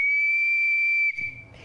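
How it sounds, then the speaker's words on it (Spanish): A simple ancient ceramic whistle from an archaeological museum, blown in one steady, piercing high tone that lasts about a second before breaking off into faint noise. "Un silbato sencillo."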